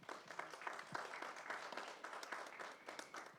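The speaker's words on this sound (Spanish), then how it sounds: "Ellos son la maestra Imelda Vega Miranda, para quien pido un aplauso." An audience at a university book fair presentation claps, a quiet, distant patter of many hands that holds steady throughout.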